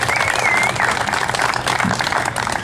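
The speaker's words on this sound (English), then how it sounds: "how about a round of applause for DCO and the Illinois Office of Tourism" A crowd gives a round of applause at a Route 66 dedication ceremony in Springfield, Illinois, a brief, continuous patter of many hands, with a faint whistle near the start.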